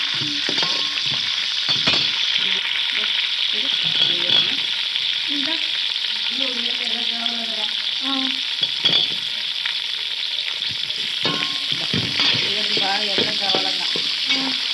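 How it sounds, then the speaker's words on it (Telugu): Chopped onion frying with green chillies in a hot pan for an eggplant curry, a loud continuous sizzle with occasional stirring scrapes and clinks close by. "కొంచెం వేగినాక ఉల్లిగడ్డ వేసాను"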